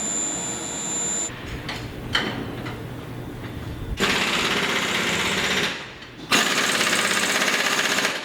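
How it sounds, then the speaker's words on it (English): Workers bolt a telescope's primary mirror cell to its steel transport fixture, with loud bursts of a pneumatic impact wrench rattling in separate runs of a few seconds each, plus clanks and pauses in between. "We are currently bolting the lens cell to its fixture, its transport fixture."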